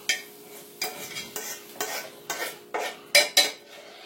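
A utensil scrapes and pushes cooked sausage into a corner of a pan in about eight distinct strokes, scraping metal with light sizzling between them, close and clear.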